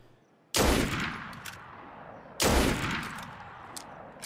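Two loud, close gunshots in Assassin's Creed Unity, each a sharp blast followed by a long rumbling echo, about two seconds apart, with no talking.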